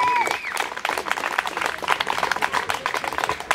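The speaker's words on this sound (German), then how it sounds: "einen dicken Applaus bitte" Audience clapping at an outdoor rally opening in Berlin's Hasenheide park, a dense, even patter of many hands sustained for several seconds.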